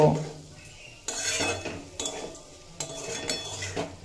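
Pre-fried okra being stirred in a cooking pan for a vegetarian curry, with a spatula scraping and clinking against the metal in short bursts, close and moderately loud, no talking.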